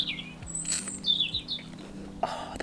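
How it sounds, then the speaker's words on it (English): Several birds chirp and trill outdoors in short, bright calls scattered through the moment, fairly close, over a quiet background with no talking. "Oh, those birds."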